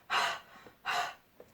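A voice imitates the letter H as breathless panting, two strong breathy huffs about a second apart, close and alone.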